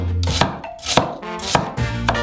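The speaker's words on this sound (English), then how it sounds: "We cut a Crimean onion in half, cut it into half rings," A knife slices a Crimean onion into half rings on a cutting board, with about five crisp, close chops in an uneven rhythm.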